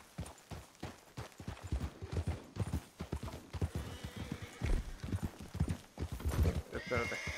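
Horse hooves clip-clop in an irregular, close rhythm in Red Dead Redemption II roleplay, with occasional whinnies and a voice speaking over the steps.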